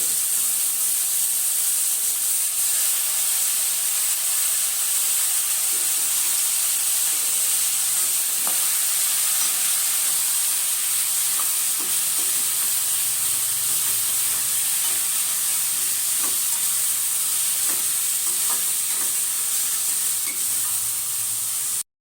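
Cleaned goat tripe (boti) frying in a pan, a steady close bright sizzle and hiss with occasional stirring clicks and scrapes running unbroken for the whole stretch, no voices.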